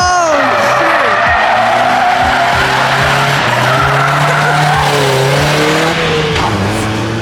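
Mazda Miata cars skid at Monterey Car Week, tires squealing in long, loud, wavering streaks over roaring engines that continue without a break.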